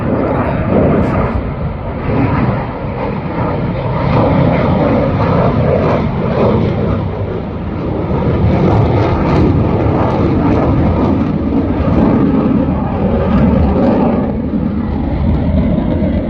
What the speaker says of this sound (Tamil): பக்கத்துலேயே அப்படியே ஜெட்டு சவுண்டு கேட்குது ஜெட்டு ஏறுது